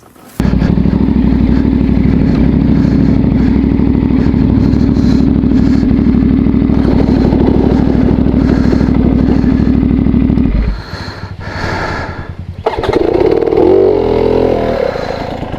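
A CFMOTO 450MT adventure motorcycle rides offroad across a wooden bridge, its engine droning loud and steady for about ten seconds before dropping away, followed by clattering and a fresh burst of revving.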